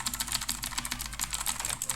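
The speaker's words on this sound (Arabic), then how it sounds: "اكيد سامعين صوت الكيبورد مش كده؟" Rapid clacky typing on a mechanical keyboard with blue switches, close and steady, with dense bright key clicks filling the two seconds and no voice over them.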